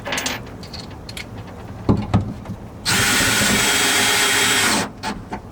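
A power drill drives mount screws into a truck bed: a close, steady whir for about two seconds, with clicks and handling noises before and after.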